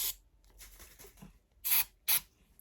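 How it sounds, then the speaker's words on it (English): A can of silicone spray gives short squirts while preparing a fluid acrylic Dutch pour painting, two distinct hissing bursts close by, following softer rustling and handling noises. "Now I just use a can of silicone spray."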